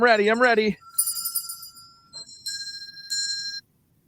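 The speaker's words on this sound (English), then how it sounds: "I'm getting ready with the bell." A radiothon bell rings in bright, sustained metallic tones, struck a few times in succession after a brief vocal whoop, close and clear before cutting to silence.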